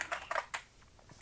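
Quick, uneven clatter of keystrokes on a cramped Sinclair ZX Spectrum+ computer keyboard, a handful of close, light taps in bursts with short gaps.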